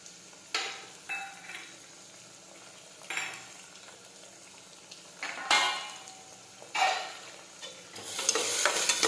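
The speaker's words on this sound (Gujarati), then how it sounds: "હવે આપણે સાતળી લઈશું હવે આપણે સમારેલા ટમેટા નાખી દઈશું" Chopped tomatoes sautéing in a pan for a bottle gourd and lentil curry, with a spoon scraping and clinking against the metal in irregular strokes over a soft sizzle that swells louder toward the end, close up, no talking.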